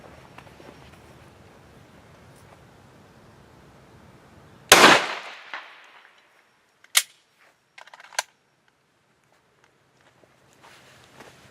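A single sharp, loud 9mm Luger gunshot from Speer Gold Dot +P 124 grain hollow-point ammunition cracks out of near-quiet surroundings, followed by a couple of smaller clacks and faint handling sounds.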